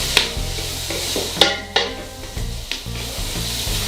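A frying mixture for chicken biryani is stirred in a pan, with steady close sizzling and a few sharp scrapes and clinks of the utensil against the metal.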